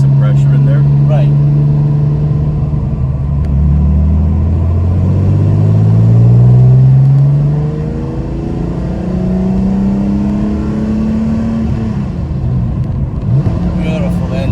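A 2005 TVR Sagaris sports car engine drones and revs through rising and falling harmonic sweeps, loud and close, with a person talking over it throughout.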